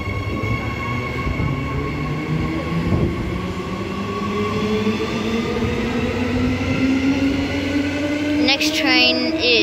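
An electric EMU passenger train at Currambine station, running loud and close with a rising motor whine, steady rumble and rail noise, leading a service to Butler.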